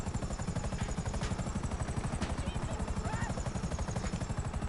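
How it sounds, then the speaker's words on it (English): A damaged helicopter in GTA, its rotor beating in fast, even pulses that hold a steady rhythm throughout at moderate loudness, with faint higher whines over the top. "you hit something and then the helicopter starts dying quickly"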